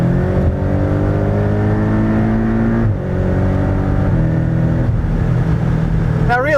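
A Porsche 718 Cayman GTS with a four-cylinder engine accelerates hard, its loud droning engine note climbing in pitch through a couple of gear changes, heard close and continuous.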